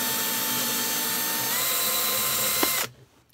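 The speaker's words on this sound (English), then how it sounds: "You're going to let the drill do the work." A cordless drill driving into wood whirs steadily at high speed, close by, then cuts off abruptly near the end, leaving near silence.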